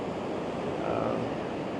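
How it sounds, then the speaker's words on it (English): Small waterfall spilling over a rock shelf near a bridge, a steady broadband rush of water that holds an even level throughout with no voices. "It's not really a big waterfall. It's more like a shelf there"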